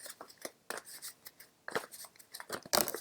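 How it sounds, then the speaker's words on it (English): Mini Lenormand cards shuffled by hand in irregular soft rustling and snapping bursts, close and fairly quiet, with no voice. "Let's see if we can shuffle these cards and lay a spread for Cancer."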